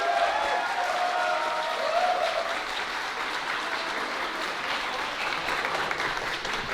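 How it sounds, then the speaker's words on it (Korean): Sustained audience applause for a retired Korean MMA fighter at a combat-sports event, a steady dense wash of clapping that holds throughout, with a faint voice at the start. "뜨거운 박수 부탁드리겠습니다"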